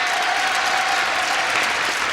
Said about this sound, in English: let's have a brisk round of applause for Lisa Gold and Mary Suggs